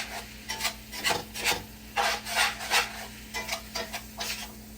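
Tortilla ingredients mixed by hand in a kitchen pan, giving rhythmic scraping and rubbing strokes in uneven bursts, close and fairly loud with no talking.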